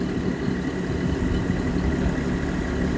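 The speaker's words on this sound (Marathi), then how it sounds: "ट्रॅक्टरने स्प्रे मारावं लागते." A tractor engine runs steadily while spraying crops in a farm field, with a dense, continuous droning rumble that stays close and unchanging throughout, with no speech.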